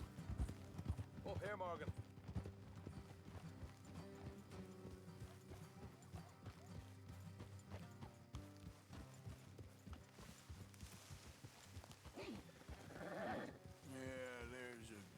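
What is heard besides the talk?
horses riding, hooves clip-clopping, in video game Red Dead Redemption 2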